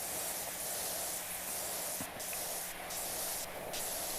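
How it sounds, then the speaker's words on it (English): Steady, dense hiss of a pressure washer spraying without soap in the video game PowerWash Simulator 2, continuous and even with small fluctuations as the jet moves. "I'm going to try to spray this without soap on the top here for just a second."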